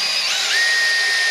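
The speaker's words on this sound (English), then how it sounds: "And I put the drill on high speed, and it goes through better." A power drill running at high speed bores through a rubber stopper, a steady high whine holding close and loud for the whole moment, with a slight pitch shift as the bit cuts through.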